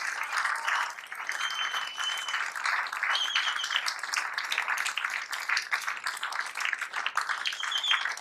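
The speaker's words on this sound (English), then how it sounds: "The crowd are appreciating it." A crowd applauds steadily after the final of the World Pool Championship, sustained dense clapping from an arena audience with a few faint voices mixed in, moderately loud and continuous throughout.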